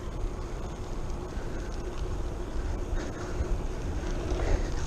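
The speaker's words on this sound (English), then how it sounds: "yeah, it's pretty windy." Strong wind buffets the microphone during an outdoor bike ride, a continuous low rumbling roar that swells and gusts throughout with no clear speech.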